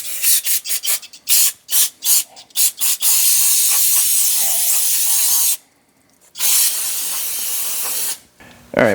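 A new brake rotor for a 2011 Ford Fiesta is sprayed off with an aerosol cleaner, first in short rapid bursts, then long continuous hissing blasts broken by a brief pause, loud and close.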